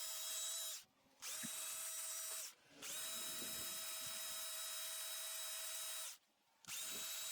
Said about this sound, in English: Now I'm going to sand her a little bit after I finish the chin here.